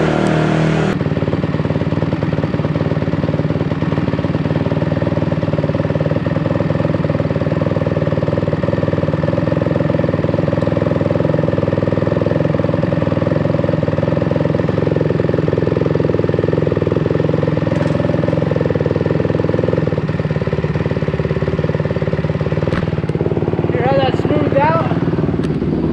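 A Honda CRF150R dirt bike engine idles steadily with the choke off after carburetor work, a continuous close mechanical drone lasting throughout with a brief rev change near the end.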